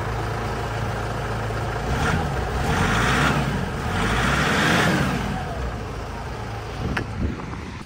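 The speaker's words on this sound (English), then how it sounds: "see if we can make a turbo noise" A turbo diesel engine runs steadily nearby, swelling twice as it's revved with a rising whistle-like turbo whine, then settling back to idle.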